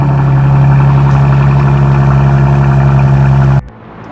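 A Mercedes-AMG C43's 3-litre twin-turbo V6 gives a loud, steady drone close by for several seconds, then cuts off abruptly near the end.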